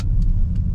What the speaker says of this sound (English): listen to that engine, guys